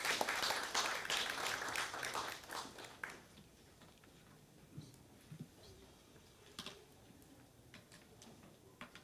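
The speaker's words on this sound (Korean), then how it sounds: "큰 박수 부탁드리겠습니다." Audience applause welcoming a speaker to the stage at a Korean forum on food and dining trends, loud dense clapping for about three seconds that thins out into scattered claps and faint room noise.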